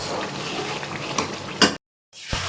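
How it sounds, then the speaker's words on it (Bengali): Mutton cooking down in a pan with sour yogurt, a soft continuous sizzle with scraping stirs and a sharper clatter near the end, then a brief cut to silence before the frying resumes. "টক দই দিয়ে রাঁধলাম। চলুন এটা ততক্ষণে কষানো হোক।"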